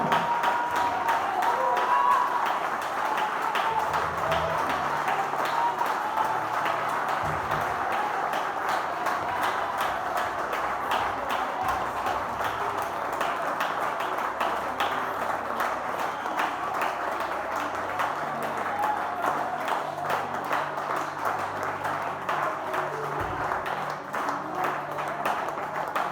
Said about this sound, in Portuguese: dar uma forte salva de palmas a Deus